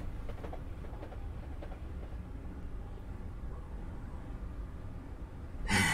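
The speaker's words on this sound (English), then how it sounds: "There, go another fake TfL real overground train." A simulated London overground train passes in a Train Simulator game, a steady low rumble with faint rhythmic clatter of wheels, moderately distant, ending in a brief louder burst.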